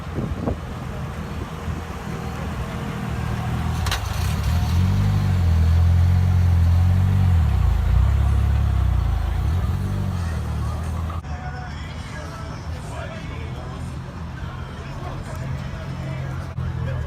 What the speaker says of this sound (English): There's a few cars that just pulled in